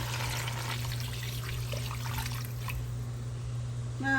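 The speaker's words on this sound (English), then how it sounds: "Okay, I'm gonna add some water" Water poured into a pot of pig feet for a Puerto Rican stew, a close, trickling splash over steady background hum for about three seconds before it stops.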